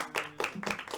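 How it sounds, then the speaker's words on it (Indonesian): A small class in an Indonesian history microteaching session claps hands, a few loose bursts of clapping close by, brief and uneven. "Beri tepuk tangan dong."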